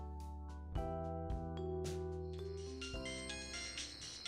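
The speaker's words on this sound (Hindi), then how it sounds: "रात की खामोशी में विराट के तन्हा कमरे में बजता हुआ वो फोन" A phone ringtone rings in a quiet room at night, its melodic electronic tones repeating in short bursts, loud and close, with no other sound.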